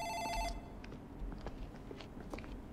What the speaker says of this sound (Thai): ฉันคิดว่านั่นคือเสียงโทรศัพท์จากในออฟฟิศนะ